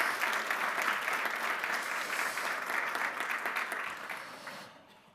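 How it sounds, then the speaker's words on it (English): An audience at an instrument industry forum gives the panel members a warm, full round of applause, steady and close for several seconds before tapering off and fading out at the end. "I want to ask you to give a warm applause for our panel members"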